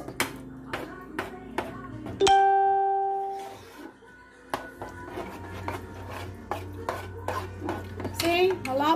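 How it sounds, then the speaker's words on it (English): A spoon stirs a blueberry mixture in a pot, making sharp, irregular metallic taps and scrapes, with one ringing clang that slowly fades. "For a second, let me stir this."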